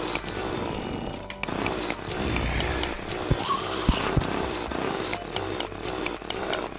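A drill chewing into enemies in Terraria, a continuous grinding, buzzing motor whine with periodic sharp hit clicks layered over it.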